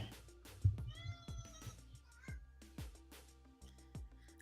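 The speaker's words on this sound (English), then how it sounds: "I hear a cat yelling at you." A pet cat yowls loudly in a series of drawn-out, wavering meows close by, with short pauses between cries and no talking.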